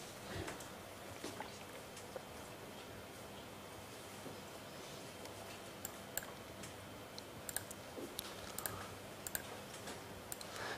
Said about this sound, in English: I'm clicking, all the arrow buttons